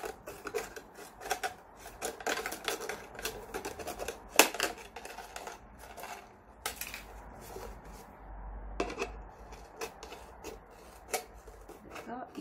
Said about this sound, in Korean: 가위를 밀듯이 이렇게 돌려가면서 그 라인을 잘라주시는 겁니다